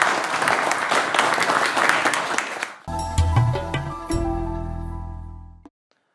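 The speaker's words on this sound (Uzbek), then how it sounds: "Kelinglar, ehtirom ko'rsatib olqishlasak" Audience applause at an evening literary gathering on Navoi and Naqshbandi tradition, a dense clapping crowd that fills the hall for about three seconds, then gives way to sustained instrumental tones that fade out.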